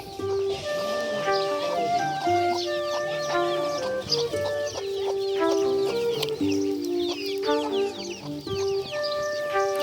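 Chickens cluck and call continuously in a rural village yard in Harirampur, Manikganj, overlapping close-up clucks with a few louder squawks and distant bird sounds.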